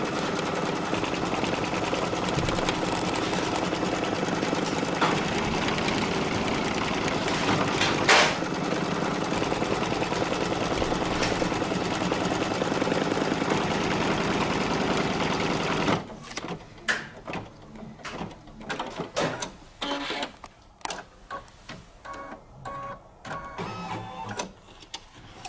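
An embroidery machine stitches a tack down line on a Kimberbell blank, a loud, continuous rapid mechanical rattle for most of the time, then giving way to sparse clicks and handling noises.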